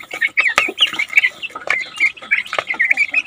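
Rhode Island Red chickens cluck and squawk in a run of short, repeated calls that overlap one another, close by and fairly loud, with no talking.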